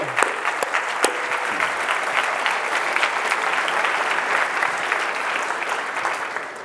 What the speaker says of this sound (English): A big applause for the founding fathers of Developer Day.